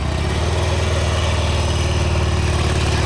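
A motorcycle engine runs steadily at low revs nearby during a tight turn, a constant throbbing rumble with no talking.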